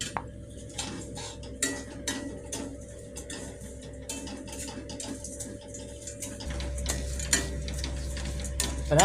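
Sugar caramelizing in ghee in a pan while making sohan halwa, stirred with a utensil that scrapes and clinks against the metal in steady repeated strokes, with a low hum underneath.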